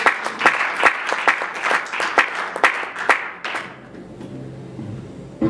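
A congregation applauding at a church retreat prayer service, rhythmic group clapping in roughly even beats, close and lively, that fades out into a quiet room.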